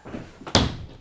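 The door to a house's backyard closes with a single sharp thunk and slam, close and loud against faint room noise.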